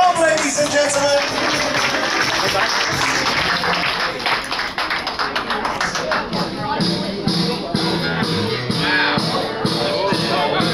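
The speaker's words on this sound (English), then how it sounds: "Keep that applause going as he makes his way to the microphone." Audience applause and crowd noise aboard a Balmoral cruise as Tom walks up to the microphone, with steady clapping, scattered whoops and background voices filling the room.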